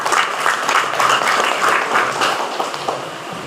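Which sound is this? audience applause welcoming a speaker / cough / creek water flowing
audience applause welcoming a speaker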